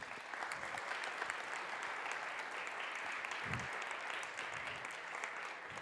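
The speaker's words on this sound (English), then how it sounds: "Maybe we can give an applause for all of them." An audience at the TechChill Riga 2026 Spotlight Stage applauds the finalists, a dense, even round of clapping from a large crowd that carries on steadily and loudly with no speech over it.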